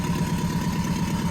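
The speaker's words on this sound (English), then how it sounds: "Alrighty guys, so I finally got her idling." Subaru engine swapped into a VW Beetle idles steadily up close, a continuous low rumble with an even pulsing rhythm and no talk over it.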